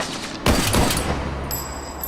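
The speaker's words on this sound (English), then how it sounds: "Someone was shooting from the top of the electronics shop." Video game gunfire rings out in a sharp burst of several close shots, followed by a lingering rumble and a faint high electronic tone, with no talking.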